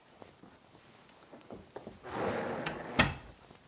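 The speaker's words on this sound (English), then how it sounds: "Let me shut my door too here." A household door is pushed shut in a home sewing room, landing as one solid wooden thump with a brief rattle, followed by quieter room shuffling.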